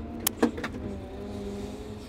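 A Cat wheel loader with hystat drive shifting into forward and rolling off, a steady tonal engine and hydraulic drone with a few sharp clicks and clunks at the start, heard up close from the cab.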